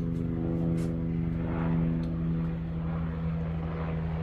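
A helicopter passes over a woodworking shop, its steady rotor drone humming evenly throughout at moderate distance with no talk over it.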